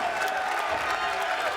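A wrestling arena crowd applauds and murmurs steadily at a match with AJ Styles, Christopher Daniels and Samoa Joe, a dense even wash of clapping and cheering heard from a distance and fairly quiet throughout.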